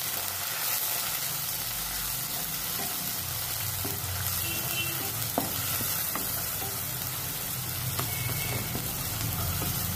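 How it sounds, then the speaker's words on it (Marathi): A ginger, garlic, chili and coriander paste sautéing with onions in a pan, a steady frying sizzle with occasional stirring scrapes, close and continuous with no talking. "ही पेस्ट परतून घ्या, त्यामुळे त्याचा कच्चा वास निघून जाईल"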